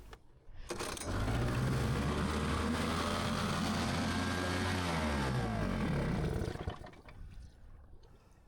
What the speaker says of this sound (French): Je n'arrive pas à comprendre pourquoi le moteur s'emballe.